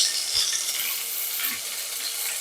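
Paneer cubes fry in hot oil with a steady, dense sizzle that fills the whole stretch, close and even, with no voices.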